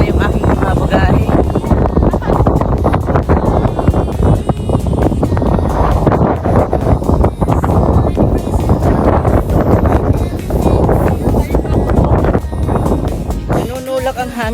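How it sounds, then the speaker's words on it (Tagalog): Strong wind blowing at Yehliu GeoPark on the Taiwanese coast, loud gusty buffeting and roaring against the microphone for the whole stretch, with someone talking intermittently under it. "Nanunulak ang hangin, mga kapatid."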